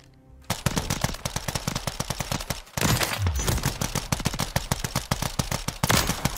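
Very rapid automatic weapon fire in Warzone 3 from a gun fitted with the XRK Lightning trigger, long dense bursts of closely spaced shots with a brief pause midway, loud and close with no talk.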